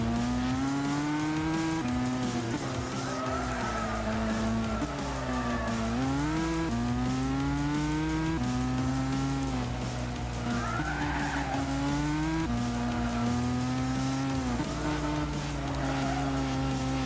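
Tyres squeal in long sustained, wavering tones as a car oversteers at low speed in Gran Turismo 6, with the engine droning steadily underneath throughout.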